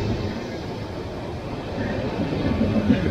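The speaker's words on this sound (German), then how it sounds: "Mein verratzter Zug kommt hier angefahren." A train pulls in near ruins outside Dresden with a low, steady rumble that swells slightly toward the end, with faint squeals over the constant drone.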